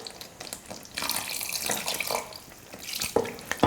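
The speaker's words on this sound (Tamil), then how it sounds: "இப்போ நான் கொஞ்சமாக தண்ணி சேர்த்துக்கிறேன்." Water poured into a pan of simmering chicken masala being cooked for parotta, a steady splashing pour that starts after a second and runs on with small bubbling shifts, close and fairly loud.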